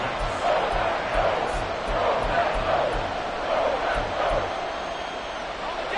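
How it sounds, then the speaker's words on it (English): Stadium crowd in an American football video game, a sustained roar of cheering that stays loud and dense throughout without letup. "Crowd on their feet."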